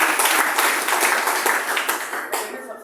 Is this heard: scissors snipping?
no